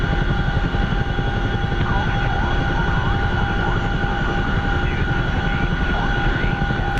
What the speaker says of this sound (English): Yep, finally got the Chinook.